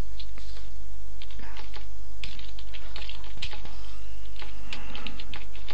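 Typing on a computer keyboard while editing text in Scribus desktop publishing software, a steady run of close, crisp key clicks with irregular bursts and brief pauses, no talking.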